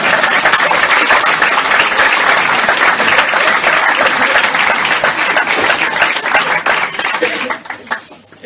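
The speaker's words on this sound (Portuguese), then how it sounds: "mostrássemos a nossa alegria por o Ricardo estar connosco, aplaudindo já" A live audience welcomes Ricardo Araújo Pereira with loud, sustained applause that fills the room and thins out toward the end, with some voices mixed in.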